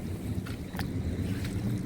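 Floodwater pours over a village dam after heavy rain, a low, steady rushing roar with a few brief splashy hisses, moderately faint and uninterrupted.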